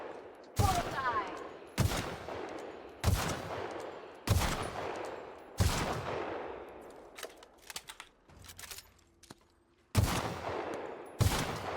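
Gunfire in the video game The Outer Worlds: about eight loud, sharp shots in a slow uneven rhythm, each trailing off in a ringing decay, with brief quieter clatter between.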